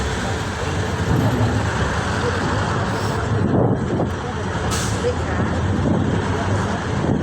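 Busy city road traffic in Cagayan de Oro, with cars and buses rumbling past nearby and wind buffeting the microphone, forming a steady, loud wash of noise.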